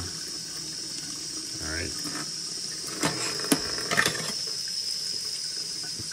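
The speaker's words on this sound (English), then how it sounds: "Be careful not to turn on your sink too high." A bathroom sink faucet runs in a steady close stream while rust remover is rinsed off a titanium knife, with a few sharper splashes and clatters near the middle and someone briefly speaking over it.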